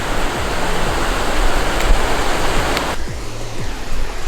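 A waterfall flowing steadily, a dense, loud broadband rush of falling water heard close up and continuous throughout, with no voices, only a slight change in tone near the end.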